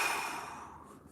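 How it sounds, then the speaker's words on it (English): Deep, slow breathing during a guided stretching routine, one long airy exhale fading gradually, close and alone without talk. "3 big breaths"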